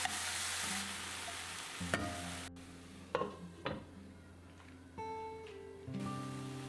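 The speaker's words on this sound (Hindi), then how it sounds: "टोमेटो पेस्ट और सॉल्ट ऐड करके टोमेटो को 2-3 मिनट्स के लिए कुक कर लूँगी" Tomato paste cooks with onion and ginger-garlic paste in a pan. A bright sizzle opens the sound and then fades, followed by scattered clanks and stirring knocks and a few tonal beeps or hums. No one speaks.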